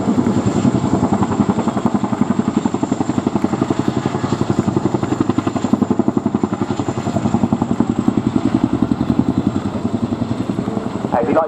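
An RAF Boeing Chinook HC.2/4 twin-rotor helicopter hovers at the RIAT 2016 air display, its loud, rapid rhythmic blade thudding throbbing steadily close by, with announcer commentary under the roar.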